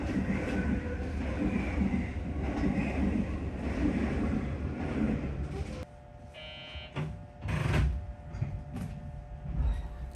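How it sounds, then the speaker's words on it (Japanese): A JR 221 series rapid train passes a waiting train on the single-track JR Nara Line, heard from on board as a rumbling, clattering run that then quiets, followed by clunks and a brief electronic tone. "221系快速列車と相対。"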